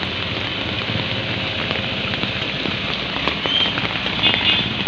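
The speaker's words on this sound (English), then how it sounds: "The weather is not good because there is a typhoon today here in Manila." Rain falls during a typhoon in Manila, a steady, close hiss of drops on surfaces that stays fairly loud for the whole few seconds, with no talk.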